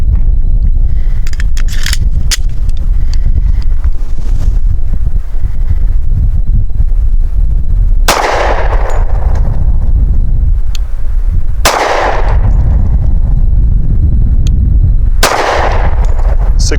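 Three sharp, loud pistol shots from an American Classic Commander 1911 firing 185 grain Hornady Critical Defense, spaced a few seconds apart outdoors, each with a quick decaying tail over steady wind noise.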